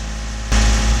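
A troubled boat engine, which had been smelling burned, running at around 2000 RPM near 5 knots: a steady, loud, broadband drone that jumps in volume and low rumble halfway through.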